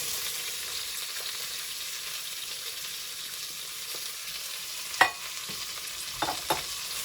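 Red pepper and onion sauté in hot oil for a Brazilian shrimp moqueca, giving an even, continuous sizzle with a few sharp clinks of stirring near the end, no voices.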